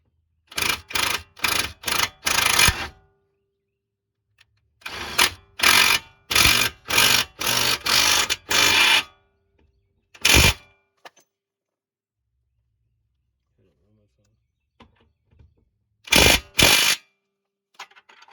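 A bolt on the control arm of a 7th-generation Nissan Maxima is tightened with a ratcheting tool in quick rapid-fire bursts, close and sharp, separated by silent pauses.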